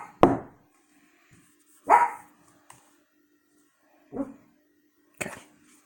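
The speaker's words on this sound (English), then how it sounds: "My dogs are going to start barking because there are some residual fireworks going on right now" Dogs bark at residual fireworks outside, four separate sharp barks spaced a second or more apart with silence between, fairly close and moderately loud, with no talk over them.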